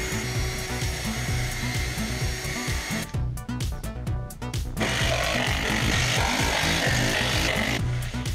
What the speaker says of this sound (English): pre-drill and screw first, then I'm going to unscrew everything, lay down some glue, and then do a final screwing